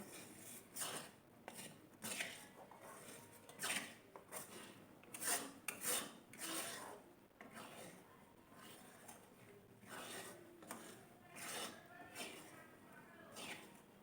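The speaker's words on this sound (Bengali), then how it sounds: "আমি এবার গ্যাসটা নিবিয়ে দেব দিয়ে একটু কড়াইতে ভালো করে নেড়ে নেবো" A ladle stirs a ghee and besan mixture in a kadai after the gas is switched off. The scraping and rasping comes in repeated strokes throughout, with a voice speaking in between.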